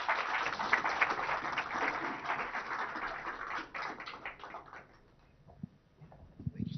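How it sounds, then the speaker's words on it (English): Audience applause at a government tech centre inauguration, a steady wash of clapping from a large hall that fades out partway, followed by faint stray sounds. "Please join me in giving the Honorable IT Minister a big round of applause."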